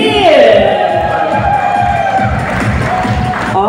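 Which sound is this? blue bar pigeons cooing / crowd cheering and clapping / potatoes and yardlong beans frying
crowd cheering and clapping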